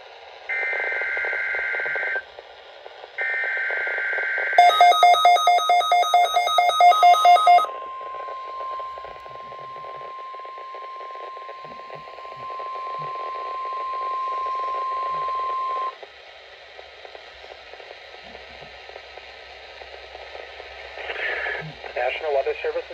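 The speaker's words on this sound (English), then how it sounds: "Weather Service in Chanhassen, Minnesota has just activated the warning alarm on 13 weather radio stations" A NOAA weather radio warning alarm activated by the Weather Service in Chanhassen, Minnesota: a loud, steady single tone holds for about eleven seconds after a burst of digital data tones, with a broadcast voice before and after it.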